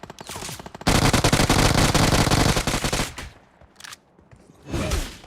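Rapid automatic gunfire bursts in a battle royale shooter match, loud and dense for several seconds before dropping to quieter scattered shots and a final burst, with no talking.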